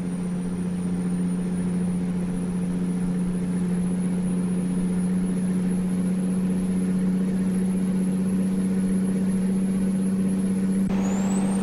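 Steady, continuous engine drone of a Chevrolet C70 box truck hauling food in a driving game, a constant low hum holding an even pitch throughout with no talking.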